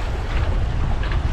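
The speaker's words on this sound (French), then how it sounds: "finalement le vent ne s'est pas arrêté" Wind roars steadily across the microphone aboard a sailboat that is making six to seven knots in a 10–12 knot breeze on the Mediterranean between Cassis and Bandol, a loud, continuous rush with nothing else breaking through.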